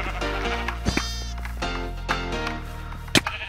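Sheep in Minecraft bleat repeatedly over a steady low hum, several wavering cries overlapping at close range, with a few sharp clicks scattered between them.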